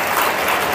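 A church congregation claps together in a dense, even wash of applause that holds steady without pause through the short clip.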